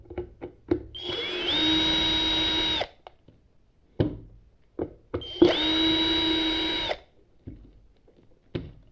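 Power screwdriver driving out screws while an electric kettle base is taken apart, two sustained whirring bursts of a few seconds each with short clicks and handling knocks between them, close by.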